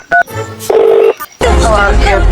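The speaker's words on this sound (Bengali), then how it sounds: "তো দেখি দয়াকে একটা ফোন দিই" A phone keypad beeps through a few short dialing tones, then a longer tone sounds before a burst of louder noise and voice, close and clear.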